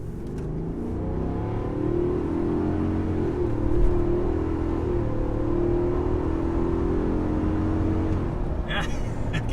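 A 2021 Ford F-250 Super Duty Tremor with the 7.3L V8 pulls hard under full throttle, a loud, sustained low engine roar rising steadily inside the cab for about nine seconds.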